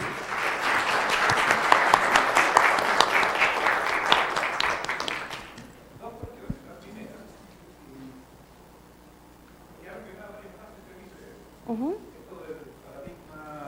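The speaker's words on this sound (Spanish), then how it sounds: "Un aplauso primero." A lecture audience breaks into loud applause that lasts about five seconds and then stops abruptly, followed by quiet room murmurs and people starting to speak.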